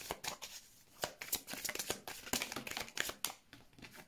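Tarot cards are shuffled by hand, a quiet run of quick papery riffles and slaps in an irregular rhythm, close and alone without talk.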